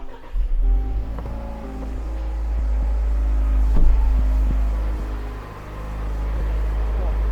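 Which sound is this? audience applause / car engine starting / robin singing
car engine starting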